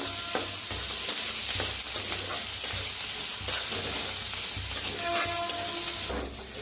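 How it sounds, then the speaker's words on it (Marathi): Seeds dry-roasting in a pan for a dill greens dish, stirred steadily with a constant dry hiss and sizzle and scraping of a spoon against the pan, close and even throughout. "ते बी असं भाजून घेऊया छान असं त्याला भाजून घेऊया"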